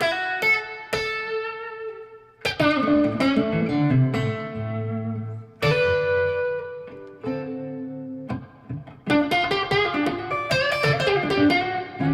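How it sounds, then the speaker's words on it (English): Electric guitar notes and chords played through a heavy reverb effect ring out with long, washy tails, each strum decaying slowly into a heavy reverberant wash. "Now we're going to add a lot of reverb."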